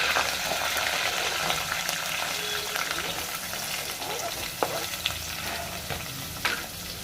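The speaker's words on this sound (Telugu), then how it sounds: "వీటన్నిటిని బాగా ఫ్రై అవ్వాలి ఉల్లిపాయలు బ్రౌన్ కలర్ వచ్చినంత వరకు ఫ్రై చేసుకోవాలి" Onions, green chillies and curry leaves fry steadily in a pan, a continuous close sizzle with occasional sharp pops and stirring scrapes.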